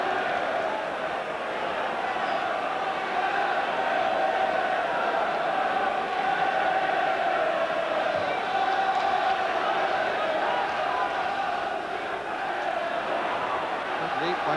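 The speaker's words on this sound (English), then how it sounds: "He gets a great roar from the crowd" Football crowd at Southampton v Liverpool gives a long, steady roar, a broad massed wall of voices that holds evenly throughout at strong volume.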